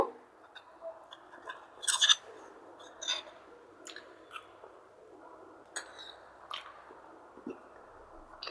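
Someone chews a bite of spicy homemade chicken fry, soft moist squishy chewing with a few sharper crunchy ticks, close and quiet, no talking.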